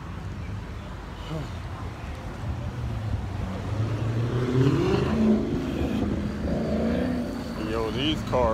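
Cars drive along a neighborhood street on a hot day, engines humming and revving steadily at close to mid distance, with rising engine tones and someone talking over the traffic noise.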